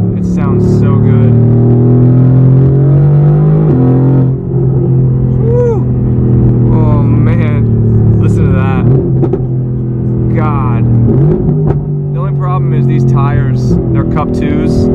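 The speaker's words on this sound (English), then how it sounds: "I forgot how much I like this car. It sounds so good." A car engine rumbles loudly up close, its pitch rising and falling as it revs, a steady heavy drone throughout.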